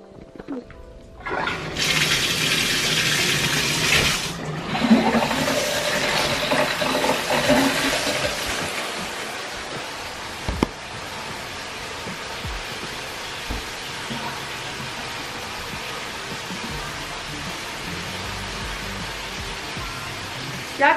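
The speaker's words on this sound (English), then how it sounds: "Y'all can't see me getting in the shower now" Shower water running in a bathroom, a steady broadband hiss that surges strongly at first then settles into a continuous quieter spray, with a few faint knocks and no talk.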